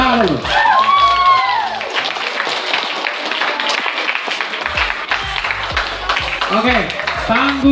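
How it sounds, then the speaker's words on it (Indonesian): Audience clapping in a crowded hall after performers are called up, a dense steady patter lasting several seconds, with whistles, voices and clattering over it. "Tepuk tangan dulu."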